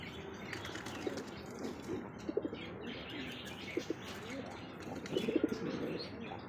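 Pigeons kept for sale by a breeder coo softly in short, repeated bursts, faint and close, with occasional wing flaps and light chirps between calls.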